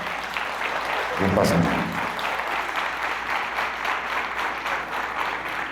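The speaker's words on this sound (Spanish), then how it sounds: "Es el momento en que me aplauden" Audience applause at a talk on business success, a steady wash of clapping from the crowd with a brief voice speaking over it near the start.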